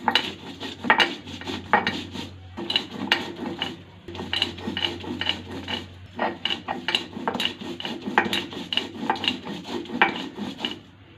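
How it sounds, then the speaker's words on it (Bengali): Green chili, garlic and ginger being ground together into a paste, a close, rhythmic scraping and rasping of stone on stone in repeated strokes, with a brief pause partway through. "কাঁচা লঙ্কা, রসুন ও আদা একসাথে বেটে নেব।"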